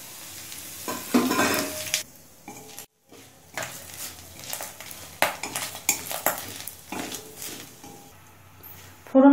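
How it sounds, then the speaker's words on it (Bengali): Cumin, bay leaves and dried red chillies are tempered in mustard oil in a kadai that was just used to fry fish heads. The oil crackles and sizzles in bursts, and a spoon scrapes and clinks against the pan, with one brief quiet gap. "এবার জিরে, তেজপাতা, শুকনো লঙ্কা ফোড়ন দেবো।"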